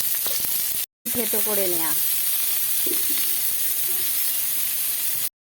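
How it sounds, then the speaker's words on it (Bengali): Onions and black and white cumin fry in a pan with a steady, close, broadband sizzle throughout, briefly cut off once near the start, with a short stretch of speech over the hiss. "ঠিক এরকমভাবে ভেজে নিতে হবে।"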